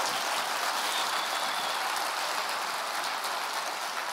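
Church congregation applauding during a Sunday service before communion: a thick, continuous wash of many hands clapping at steady volume throughout, with no voices on top.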